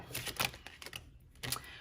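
Tarot cards shuffled in quick bursts of crisp riffling and flicking, close and fairly quiet, with a short pause before a final flurry of card noise.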